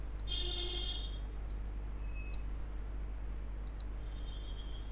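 Several sharp computer mouse clicks while editing in Photoshop, spaced irregularly over a steady low hum, with no talking.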